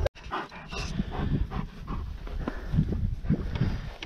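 A dog pants and snuffles close by at a boat-lake work site, with occasional short yelps or barks breaking through the steady breathing.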